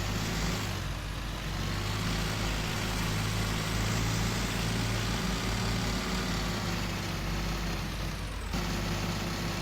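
A tractor engine runs at a steady idle close by, a constant low rumble with one brief dip near the end.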